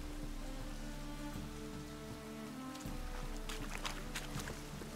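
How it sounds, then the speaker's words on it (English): Rain falls steadily during a rainstorm in The Witcher 3 video game, a constant pattering wash over a low droning hum, with brief louder splashes toward the end and no talking. "Not quite sideways rain, but we got a decent little rainstorm."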